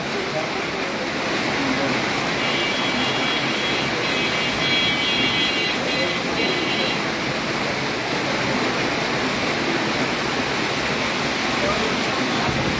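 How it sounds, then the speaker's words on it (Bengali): Heavy rain pours down steadily during a thunderstorm in Cumilla, heard from inside a shop as a dense, continuous roar of broadband hiss with no pauses across the whole stretch. "কীভাবে বৃষ্টি পড়ছে দেখুন"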